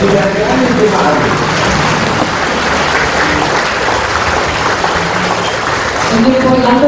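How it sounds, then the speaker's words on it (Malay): A standing ovation fills a hall at a retirement ceremony, dense sustained clapping from a large crowd running evenly throughout, with an announcer's voice carrying over it. "kita berikan penghormatan standing ovation dan tepukan gemuruh kepada yang berbahagia"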